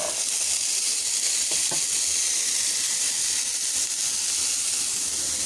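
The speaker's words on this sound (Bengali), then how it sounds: "প্যানের মধ্যে দিয়ে দিয়েছি তেল দিয়ে দিয়েছি ছোটো আলু" Continuous oily sizzling and hissing from small potatoes frying in oil in a pan, steady and close, with a couple of faint clinks.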